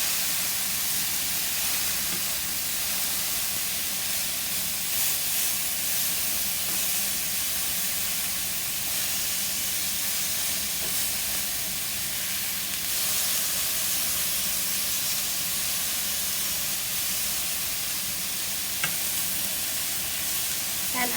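Beef kebab frying in its own fat in a pan with no added oil, a dense, loud, continuous sizzle and hiss that holds steady for the whole stretch, close up and alone without talk.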